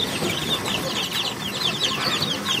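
Native chicken hens cluck softly and repeatedly in a farm setting, a chorus of short overlapping clucks over a steady murmur of background noise.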